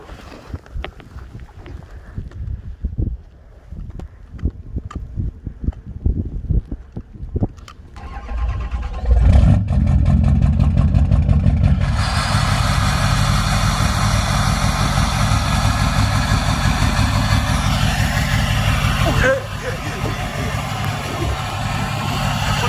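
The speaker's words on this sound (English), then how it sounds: "We're gonna do a nice cold start." Clicks and rattles, then a 6.0 Powerstroke diesel pickup truck cold-starts, cranking and firing up loudly, settling into a steady, rumbling diesel idle that continues to the end.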